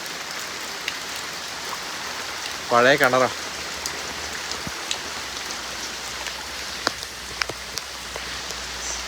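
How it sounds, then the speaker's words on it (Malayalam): Light rain falls steadily around an old well, a soft, even patter over the whole stretch with a few sharper drips, while someone speaks briefly near the start. "മഴ ഇപ്പൊ കുറഞ്ഞു കേട്ടോ"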